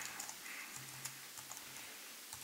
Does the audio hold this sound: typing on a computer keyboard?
yes